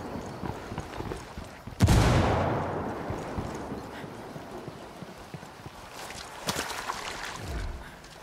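Frag grenade detonating in the co-op shooter Ghost Recon Wildlands, one loud booming blast with a long rumbling decay, then a second sharper burst near the end over quieter ambient game noise.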